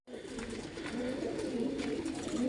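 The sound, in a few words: pigeons cooing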